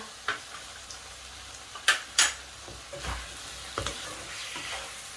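Stink beans and fresh shrimp stir-fried in a pan, heard as a faint sizzle under sparse, sharp scrapes and clacks of a spatula against the pan, with a few louder strikes.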